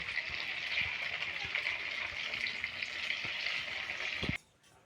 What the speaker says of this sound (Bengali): এই পকোড়াগুলো তো আমি ভেজে নিয়েছি, আর বাকি যেগুলো রয়েছে সেগুলো ঠিক একইভাবে